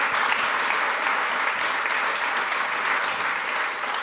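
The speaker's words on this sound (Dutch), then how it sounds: "applaus voor Joey Raukens en Emma Drost." An audience applauding after a Dudok Quartet string quartet concert, a loud, dense and even burst of clapping from many hands that holds steady throughout with no speech on top.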